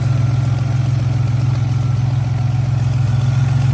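A 1987 Buick Grand National with a turbocharged 3.8 litre V6, aluminum radiator and electric fans, idles with a steady, loud low rumble and even, throbbing pulses, unchanging from start to finish.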